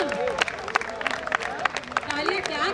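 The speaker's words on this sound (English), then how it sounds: "a huge round of applause" A crowd at a volleyball league prize ceremony claps loudly and steadily while voices shout and talk over the clapping.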